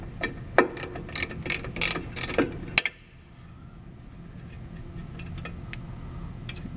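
A ratchet turning an 11 mm socket to remove drum brake bolts on a Chevy Astro or Chevy pickup, with quick, close clicking bursts that stop abruptly and leave a quiet workshop background.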